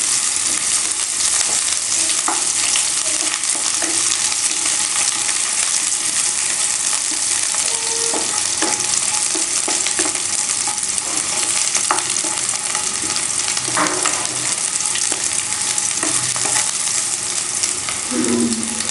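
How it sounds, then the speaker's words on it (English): Onions frying in a pan for a Sri Lankan kothu roti, a steady broadband sizzle lasting throughout with occasional stirring clinks and scrapes, loud and close with no talking. "Fry the onions till they're translucent."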